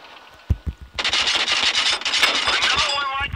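The tank gun of a Pz. II in World of Tanks Blitz fires loud, close shots: a couple of separate blasts, then a dense rapid string of rounds under a roaring din.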